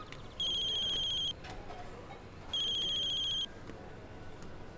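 A telephone rings twice in two long electronic bursts separated by a pause, clear and fairly close over a quiet room.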